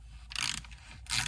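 Two quick bursts of clicking from a hand ratchet turning a bolt on the air box of a 42-year-old DeLorean barn find, close up with a brief pause between strokes.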